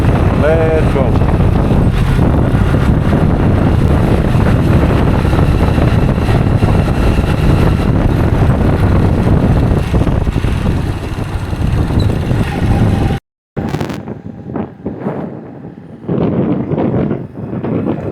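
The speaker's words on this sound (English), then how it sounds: "motorcycle is smooth, engine is great, everything is lubricated" A motorcycle engine on the road in Yunnan, China, from Pu'er toward Xishuangbanna: a continuous loud, rough drone with heavy wind rush for about thirteen seconds, then a sudden cutout and quieter uneven engine sound.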